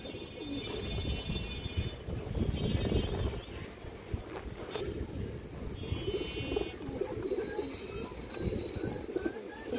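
A female pigeon coos among other pigeons, soft low throaty calls repeating over steady noisy background chatter of birds, with a few higher chirps and whistles faintly above.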